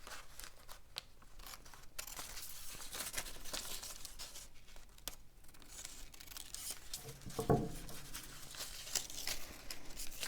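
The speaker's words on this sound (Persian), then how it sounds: "این اضافه هاشو قیچی کنید." Scissors trimming excess paper from a men's shirt sewing pattern, soft snipping and paper rustling close by, with a sharper crunchy cut near the middle.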